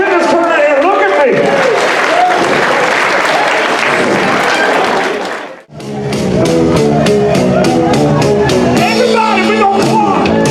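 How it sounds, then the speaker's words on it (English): Crowd at a party clapping and cheering loudly for the bartenders, dense applause with shouts and whoops that fades briefly before music with a driving beat takes over. "I want everybody to clap for the bartenders back here tonight."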